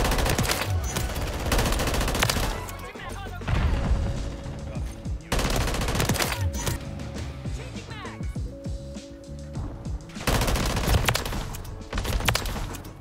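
Rapid automatic gunfire in Call of Duty multiplayer, loud repeated bursts of fast shots with short pauses between them, over in-game background noise.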